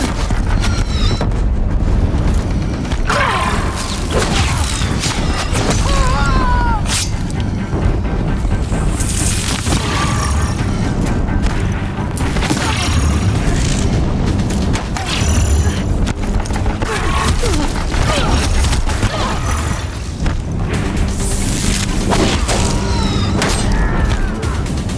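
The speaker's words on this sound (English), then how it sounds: "If the Deathbringers keep firing, this bridge will go." Heavy machine fire from Deathbringers in Horizon Zero Dawn, loud booming blasts and rumbling impacts pounding continuously near a bridge, with thuds and mechanical clatter layered throughout.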